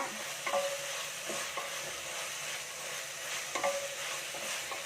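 Crushed large green chillies sizzle in a pan with beef curry ingredients, with a steady frying hiss. A spoon stirs and scrapes close by in a few short bursts, and there is no talk.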